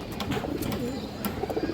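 A female Pakistani high flyer pigeon coos in a soft, repeated low murmur among other birds, close and steady with no talk over it.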